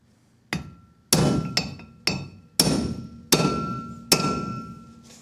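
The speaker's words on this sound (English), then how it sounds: "You can use a hammer like this, but I like to use a BFH and really get it down there." Six heavy metallic hammer blows on a socket driving a bearing race into a UFP DB-42 trailer hub, loud and close, with sharp ringing strikes spaced irregularly about half a second to a second apart, each decaying quickly.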